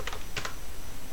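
Two quick bursts of keystrokes on a computer keyboard, close and crisp, separated by a short pause, with no talking.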